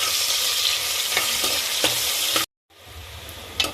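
Onions and spices sizzle while being sautéed in ghee, a bright hissing fry with a few stirring scrapes, then a short silence before quieter sizzling resumes.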